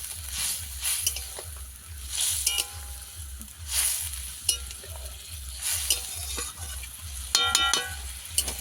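A fish curry of small live pond-caught bele fish sizzles in a pan. A little water goes in, and a spoon stirs with irregular scraping strokes over continuous bubbling and hissing, ending in a few sharp metallic clinks.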